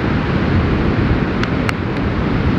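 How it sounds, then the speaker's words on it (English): Strong wind buffets the microphone on a Pacific Coast beach, a loud, constant roaring rush with surf blended underneath and a couple of faint brief clicks. "The wind is so strong"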